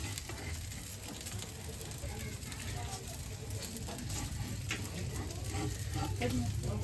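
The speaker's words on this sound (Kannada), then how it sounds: "ಒಲೆ ಮೇಲೆ ದೋಸೆ ನೋಡಿ" Dosa batter sizzling steadily on a griddle over a wood-fired stove at a village temple fair, a continuous crackling hiss with busy outdoor noise and people talking in the background.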